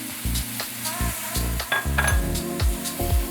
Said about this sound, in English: We're gonna add in our onion, our garlic, and our tomatoes. Cook this.